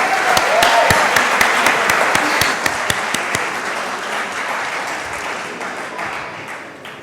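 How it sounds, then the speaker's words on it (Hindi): A celebration audience applauds achievers at a company's 15-year anniversary event, starting with loud, sharp individual claps over dense clapping that gradually thins and fades toward the end. "सभी अचीवर लोगों के लिए एक जोरदार तालियां हो जाए दोस्तों"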